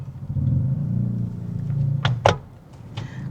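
A used 2016 Toyota Innova Reborn G with automatic transmission idles with a smooth, low, steady hum, then several sharp clicks and taps cut in briefly near the end.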